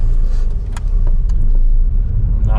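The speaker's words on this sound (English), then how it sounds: "I'll let my buddy Andre drive the car" A manual Scion tC being driven with its engine running, giving a steady, loud low rumble of engine and road noise close by, with no talking.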